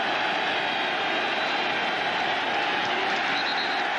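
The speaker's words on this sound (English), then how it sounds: "Well, there's the crowd right there." A football stadium crowd roars at the 2002 Miami versus Syracuse game, a dense, steady wash of cheering that stays loud and unbroken throughout.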